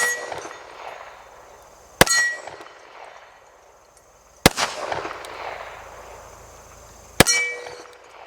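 Three sharp metallic clangs from a Kimber 1911 .45 bullet striking a steel target, spaced a couple of seconds apart, each ringing briefly over an outdoor background.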